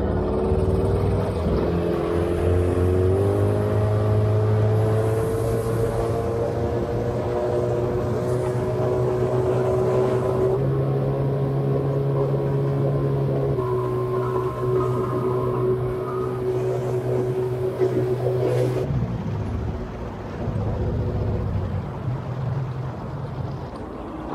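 A Jonbot AIR motorboat's engine drones steadily as the boat runs over waves, its pitch shifting up and down in several stages, loud and close throughout.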